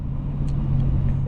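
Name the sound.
Lexus IS 500 F Sport Performance car driving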